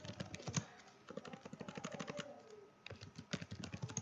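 Rapid, close typing on a computer keyboard while code is entered, a dense run of crisp key clicks that pauses briefly before carrying on.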